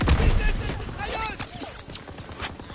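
Bursts of machine gun fire and scattered gunshots in the Call of Duty WWII video game, with rapid cracks and booms under a talking voice.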